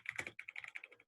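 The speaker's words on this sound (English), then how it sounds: "Start typing in." Quick, light clicks of fingers typing on a computer keyboard, steady and close, with no talking.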